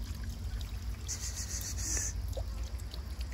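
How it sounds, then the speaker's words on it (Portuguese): Water trickles and pours steadily from a water wheel beside a monjolo near a cave in Santa Rita de Caldas, a continuous close wash with a low rumble underneath. "E a água vai caindo."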